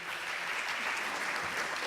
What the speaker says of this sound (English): Let's give another applause to Mary Arends Kuenning